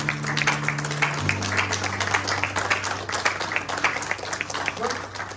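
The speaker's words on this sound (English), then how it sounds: "Give it a round of applause for Sergio." A room full of people at a memorial service clapping steadily, with a low sustained musical tone underneath throughout.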